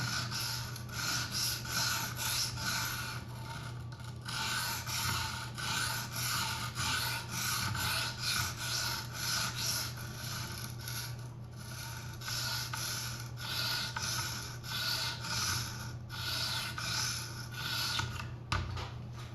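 Folding knife blade sharpened on an Edge Pro Apex guided sharpening system, with close, continuous rhythmic rasping strokes of stone against steel running back and forth, steady and unbroken throughout.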